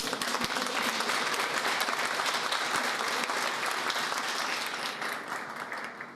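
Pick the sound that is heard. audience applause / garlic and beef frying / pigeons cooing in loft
audience applause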